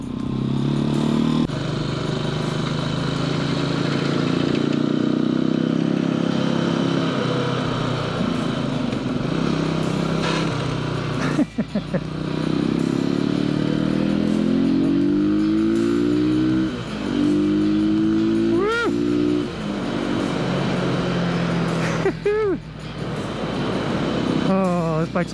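Janus Halcyon 450 hardtail motorcycle riding, a loud steady engine drone close up with rising and falling revs through gear changes, mixed with wind noise and some talk.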